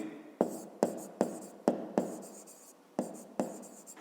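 Pen or chalk strokes while working a fifth-grade math exercise, a series of about seven sharp, close scratching taps at an irregular rhythm.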